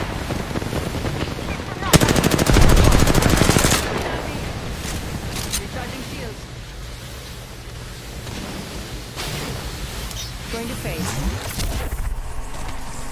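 Automatic gunfire rattles in a video game as the player comes under fire, with a loud sustained burst early on and scattered shots afterward, while the player keeps talking over it.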